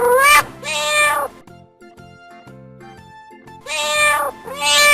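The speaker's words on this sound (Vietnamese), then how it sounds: "Con mèo. Con mèo." Domestic cat meowing, two loud, drawn-out meows at the start and end with a quieter stretch of faint tones between them, heard alone without any talk.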